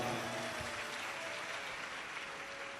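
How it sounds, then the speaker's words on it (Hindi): A large crowd at a live Shiv Mahapuran religious discourse breaks into steady, loud applause for a daughter, a dense continuous wash of clapping that fills the whole stretch without pause, with no voices heard over it. "एक बार बेटी के लिए जोरदार ताली बजाओ"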